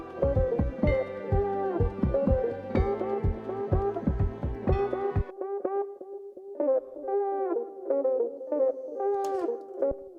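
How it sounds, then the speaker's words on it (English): Sampled horn line that sounds like a saxophone, a quiet run of short melodic notes over a thumping low beat that drops away midway, leaving only the horn phrases alone. "you're going to hear a horn sample from the beginning"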